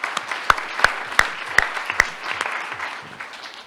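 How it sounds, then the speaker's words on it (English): Sparse clapping from a small audience at the close of a school wellness summit: about five sharp, distinct claps spaced roughly evenly over two seconds, then a few softer scattered claps fading out. "So one round of applause for those folks."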